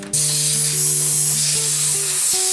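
A steady aerosol hiss sprays continuously into an old laptop's open CD-ROM drive for a couple of seconds, blowing out dust, close and loud, with faint rattling tones beneath.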